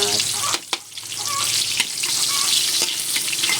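Garlic and onion fry in a pan for pancit, a close, steady sizzle broken by a few sharp clatters and scrapes as ingredients go in and get stirred.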